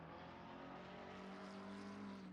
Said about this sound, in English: I'm so fed up of hearing an engine.